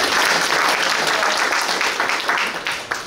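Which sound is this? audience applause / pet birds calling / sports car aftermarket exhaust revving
audience applause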